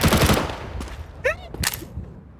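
An M4 rifle fires in the Counter-Strike 2 video game as a quick, loud burst of rapid shots at the start. Sharp clicks and game effects follow, and players talk over the action.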